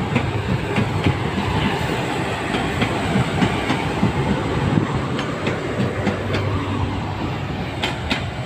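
A passing train rolls by close and loud, with a steady rumble of railcars and regular clickety-clack of wheels over rail joints, plus occasional sharper clanks, heard alone without talk.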